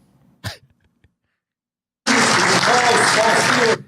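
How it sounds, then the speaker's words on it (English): A room full of people bursts into loud, sustained applause that lasts a couple of seconds, following a short cough-like vocal sound and a stretch of near silence. "the whole room applauds that"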